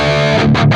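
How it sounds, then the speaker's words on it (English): Distorted electric guitar through an Archetype Gojira X amp with the master pushed and output compensated, giving a mid-focused tone; a short, loud, close chord with a quick re-strike near the end, no voices. "what you hear there is a bit of a bump in the mid-range and a more mid-focused sound."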